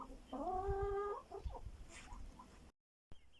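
Chickens clucking close by in a yard outdoors on a sunny summer day, a run of repeated clucks with a sustained call early on, then a brief cut to silence and a short faint return.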